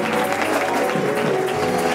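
A church congregation at a baptism service applauding and cheering the newly baptized, a steady loud wash of clapping and crowd noise filling the room throughout.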